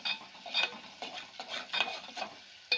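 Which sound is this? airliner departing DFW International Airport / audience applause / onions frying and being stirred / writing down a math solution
onions frying and being stirred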